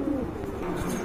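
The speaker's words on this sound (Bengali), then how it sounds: "আরেক জোড়া কবুতর দেখতে পাচ্ছেন" A pigeon at a Bangladeshi pigeon sale gives a brief, soft, low coo, close and alone for about a second.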